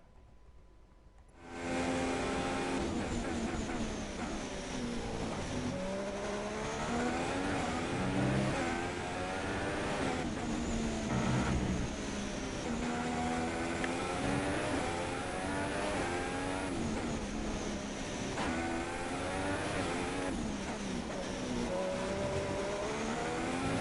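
A Ferrari Formula 1 car in F1 2016 roars at the Spanish Grand Prix on a flying lap, its high-pitched engine sustained and loud as revs climb and drop through repeated gear shifts, with no one talking.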